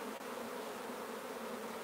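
Honeybees shaken off a hive frame during a queen-cell-building check: a dense, continuous buzzing swarm, close and steady throughout, with no talk.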